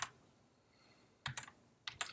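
Typing on a computer keyboard, a few quick clusters of light clicking keystrokes separated by near-silence, close and quiet.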